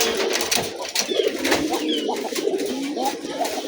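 Several pigeons coo and call together after being let out in the morning, a steady overlapping chorus of low throaty coos close by, with no talk.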